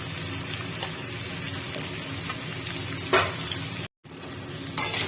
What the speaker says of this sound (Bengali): কপিটাকে ভাজতে থাকবো, ভেজে নিয়ে আসবো।